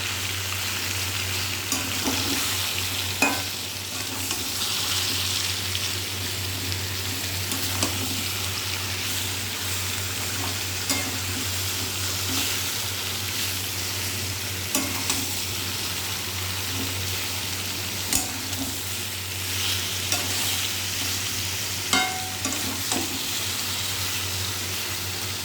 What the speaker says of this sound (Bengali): ভালো করে নেড়ে করে মিশিয়ে নিতে হবে।